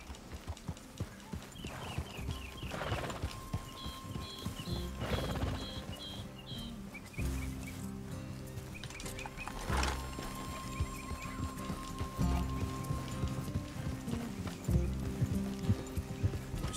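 Horses clip-clop along at a steady trot in Red Dead Redemption 2, hooves thudding rhythmically under a musical score, with a whinny and some creaking tack, moderately near and fairly quiet.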